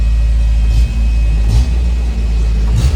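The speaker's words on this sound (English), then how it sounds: "It's still idling high for being cold." A cold 1980 MG engine sits at a high idle, a loud, steady close-up rumble with slight periodic surges and no talking.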